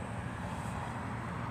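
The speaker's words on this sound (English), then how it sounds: "It's an Airbus A319." An Airbus A319 jet airliner flies overhead as a steady, broad roar, loud and continuous through the moment, with no talking.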